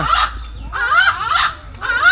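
A fish eagle at the Bangladesh national zoo gives three harsh, honking calls in quick succession, loud and close, with short gaps between them.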